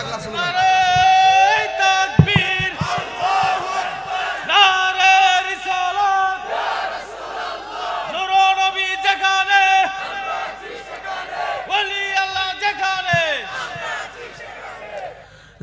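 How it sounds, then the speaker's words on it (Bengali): A large crowd at a Bengali Islamic waz sermon gathering chants a slogan in loud, rhythmic unison, with repeated call-and-response bursts roughly every few seconds throughout. "একটা স্লোগান দেন দেখি, পাগলা স্লোগান"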